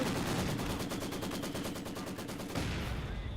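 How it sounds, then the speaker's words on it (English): Maxim machine gun fire in Company of Heroes 2, set against Panzer Grenadiers: rapid, sustained bursts rattle loudly and continuously for the whole stretch, with battle noise underneath and a slight shift in tone near the end. "center Maxim firing against the Panzer Grenadiers"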